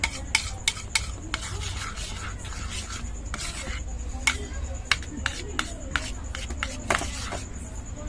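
A spoon stirs and scrapes through a bowl of egg mixture with green chili and chili powder for egg chapati, giving quiet rubbing swirls punctuated by sharp, irregular clinks against the bowl.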